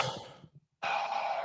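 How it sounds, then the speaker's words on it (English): A forceful breath blown out through the mouth after a held breath: a steady rushing exhale, then a brief silent pause, then a second strong, sustained breath out, close and alone. "Now do a cannonball breath out."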